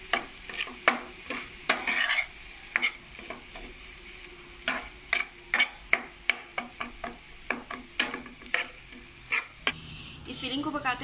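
Potato samosa filling is stirred in a frying pan: a steady scrape of spoon on pan repeats in irregular strokes over a soft continuous sizzle, close and clear, with no talking.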